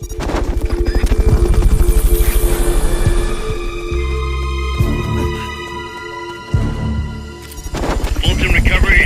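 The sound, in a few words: Fulton recovery helicopter in Metal Gear Solid V video game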